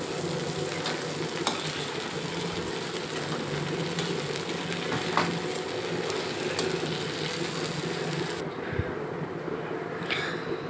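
Pieces for a homemade malai curry sizzle in hot oil in a pan. The frying makes a steady, close hiss of crackling that continues for several seconds, then drops away abruptly near the end.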